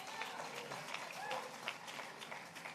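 Audience applause at a 90th birthday celebration for Mayor Dinkins hosted by Mayor de Blasio, a steady wash of clapping from a crowd heard faint and distant, with scattered sharper claps.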